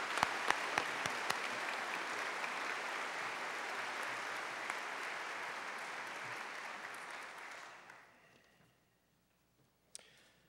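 Sustained applause from an audience at a university fall conference general session honoring staff award winners, dense and steady for about eight seconds before fading out, with a few sharp claps standing out at the start and a lone clap near the end.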